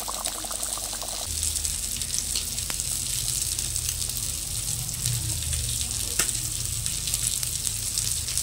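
Fish frying in oil in a pan at home during lunch preparation, a steady broadband sizzle holding throughout at close range, with faint low kitchen rumble underneath and a couple of brief clinks.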